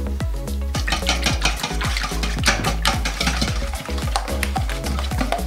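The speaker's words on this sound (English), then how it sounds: "Now I am going to whisk." A whisk beats eggs with a milk substitute in a bowl, making fast, steady clinking and sloshing strokes several times a second, close and continuous, with no talking.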